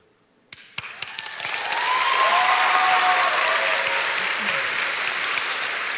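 An audience at the PAX West 2016 gaming convention bursts into applause, starting with a few scattered claps that swell within a second into loud, sustained clapping and cheering from a large crowd.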